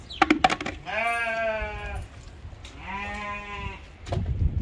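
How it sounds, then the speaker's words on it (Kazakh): Sheep bleat close by, two long wavering calls each lasting about a second, with clattering and shuffling noises at the start and end. "Келе жатырмын, қойларым"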